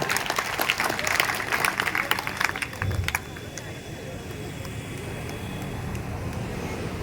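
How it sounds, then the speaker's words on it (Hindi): Crowd at a Meghwal community gathering and student honours ceremony in Jhunjhunu claps loudly for the first three seconds, then the applause drops off to a quieter murmuring hall ambience. "एक बार जोरदार तालियां।"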